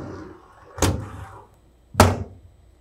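The door of a TRAK 2op portable vertical machining center swings open, giving two sharp thunks about a second apart, close and fairly loud, with no talk over them.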